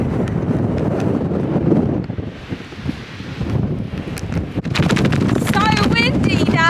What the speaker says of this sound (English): So windy now.